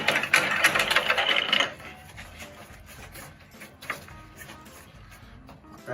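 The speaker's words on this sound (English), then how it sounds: "Tighten down the lid." A Smokaroma pressure smoker lid being tightened down, with a burst of close metallic ratcheting and grinding for about a second and a half, then quieter scattered clicks and faint handling noise.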